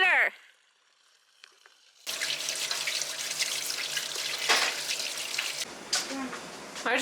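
A tap left running on a farm overflows, water splashing and pouring steadily after a near-silent start, with a brief voice at the beginning.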